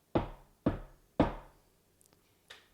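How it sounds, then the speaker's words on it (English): Three firm knocks on a door in quick succession, close and distinct, followed by a few faint small sounds in a quiet room. "they get a knock on the door"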